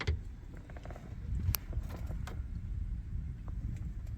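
A GMT800 Chevrolet/GMC truck steering column being tilted up and down, giving soft close creaks, clicks and mechanical clunks over a quiet cabin background.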